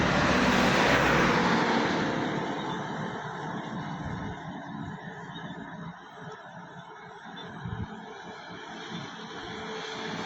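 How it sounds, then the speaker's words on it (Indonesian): A JRG bus passes on a road in the morning, a loud rushing roar close by at first that fades into steadier road noise as it moves away. "bus yang kedua yaitu JRG ya di pagi hari ini"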